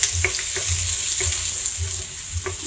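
Squid adobo spices sizzle and crackle in a hot pan while a utensil stirs and scrapes rhythmically in short repeated strokes, close and steady.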